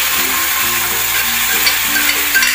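Tomato masala with cooked kabuli chana frying in a pan, giving a steady, loud, even sizzle throughout with faint stirring and a low background hum.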